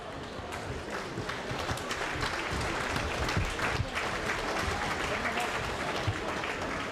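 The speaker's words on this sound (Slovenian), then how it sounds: "še enkrat en velik aplavz" Steady applause from an audience at an outdoor Slovenian People's Party rally, a dense continuous patter of many clapping hands running unbroken throughout, with crowd noise mixed in.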